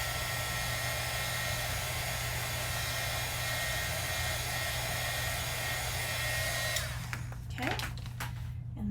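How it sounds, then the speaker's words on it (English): A heat tool blowing on cardstock to set ink, a steady loud whirring hum with airy rush that runs for about seven seconds, then cuts off, leaving a few close clicks and handling noises. "I am going to heat set this really quickly just because it's going on kind of a different cardstock"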